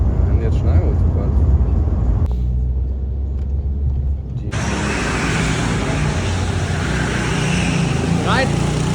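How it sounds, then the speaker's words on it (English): A car speeds along the German Autobahn, its steady loud road rumble and engine drone filling the cabin throughout, with wind and tire roar rising sharply partway through; voices talk over the noise. "Jetzt schnell Autobahn."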